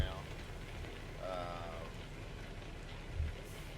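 A heavy thunderstorm in the American Truck Simulator video game: a dense, steady wash of rain beats on surfaces. Faint voice-like sounds murmur underneath, and a dull low thump comes near the end.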